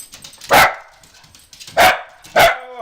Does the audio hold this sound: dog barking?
yes